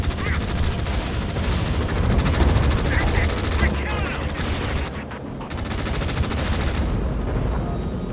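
Continuous combat gunfire in the military strategy game Tom Clancy's EndWar, with dense rattling shots and rumbling booms in a loud battlefield mix and radio-style voices talking over it.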